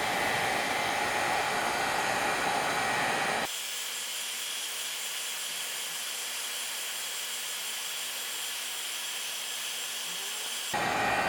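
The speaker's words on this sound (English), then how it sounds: "Get your heat gun on low heat and warm it up" A heat gun set to low heat blows a steady, loud broadband hiss while warming cracked shoe polish, with a quieter stretch in the middle before the full roar returns at the end.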